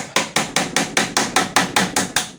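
Hammer tapping the cap off the shock absorber of a 2012 KTM 125 EXC motorcycle, about a dozen sharp, close metallic knocks in an even quick rhythm with no talk.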